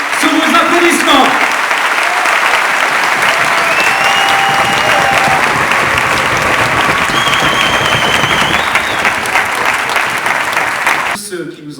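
A concert audience at a French charity benefit against AIDS claps loudly and continuously for about eleven seconds, a dense roar of hands that fades near the end before a voice starts.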